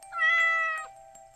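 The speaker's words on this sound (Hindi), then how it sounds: "खिड़की पर एक बिल्ली बैठी थी" A cat meows at a store room window, one drawn-out, clear, fairly close call that swells and fades.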